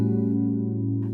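An extended chord with added 7th, 9th and 13th from Super Mario Galaxy 2 music, held as one steady sustained harmonic block for about a second, fairly loud and alone with no talk.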